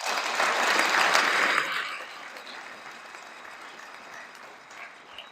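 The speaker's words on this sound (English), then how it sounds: "I would like to give her another applause." Audience at a youth football banquet applauds an honoree, loud clapping for about two seconds that then fades to a thin, scattered patter of a few remaining claps.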